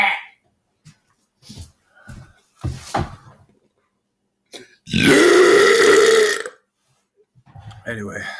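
A man belches long and loud, right up close, after eating four packets of ramen and four eggs. The big burp runs over a second and a half, with short bursts of voice and noise around it.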